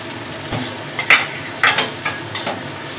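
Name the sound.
vegetables frying and being stirred in a pan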